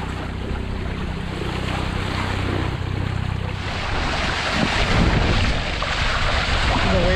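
Sea swells wash against a small sailboat in wind, making a continuous broadband rush of water and wind buffeting close to the microphone.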